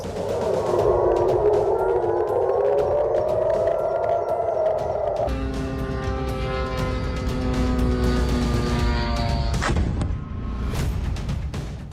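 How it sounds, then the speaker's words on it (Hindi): An air raid siren at a US airbase in Jordan wails in a long rising and falling tone, then switches to a steadier multi-tone blare, with scattered clicks and background rumble throughout. "जॉर्डन में सायरन अलर्ट पर यूएस एयरबेस।"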